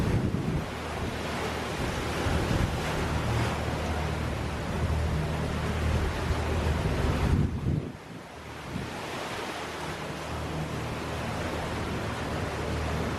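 Rough open ocean at sea between Tahiti and the Marquesas, with seas over ten feet: a constant roar of wind and crashing waves from aboard a sailboat, with heavy wind buffeting on the microphone and a brief lull midway.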